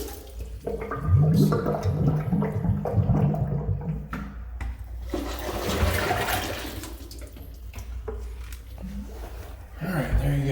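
A waterless urinal drains with gurgling, trickling water and liquid rushing down the pipe, rising and falling over several seconds while people talk nearby.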